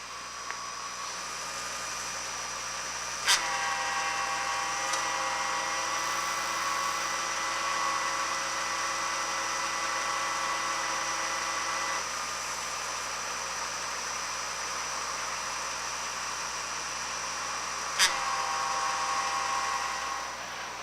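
A TS410 fluid exchange service machine runs with a steady, moderate whine and hum, broken by a few sharp clicks spaced across the run, with no talking.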